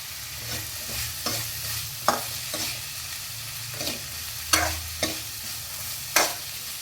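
Onions and chickpeas stirred together in a pan, with rhythmic scraping strokes and sharp utensil knocks at irregular intervals over a low background hiss, close and alone.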